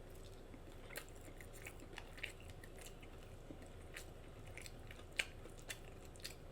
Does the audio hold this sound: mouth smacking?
yes